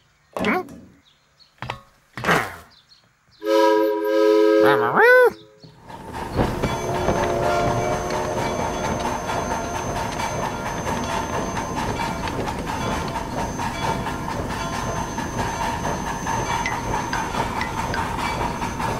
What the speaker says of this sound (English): Big Blue's locomotive pulled 97 train cars.